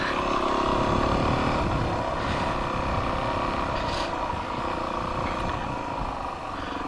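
A motorcycle engine roars steadily and loudly at close range as the bike rides off on a wheelie at night, a continuous rumbling drone with slight swells in pitch and no talk over it.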